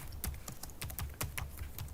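Steady typing on a computer keyboard, a brisk run of close key clicks and taps in an uneven rhythm over faint background noise.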